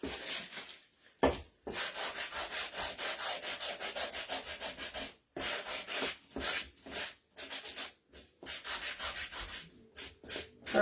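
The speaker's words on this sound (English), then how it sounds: "I like sanding it because it gives it different colors of brown" Sandpaper rubs back and forth over a wooden gingerbread man decoration in quick, steady close strokes, broken by a few brief pauses.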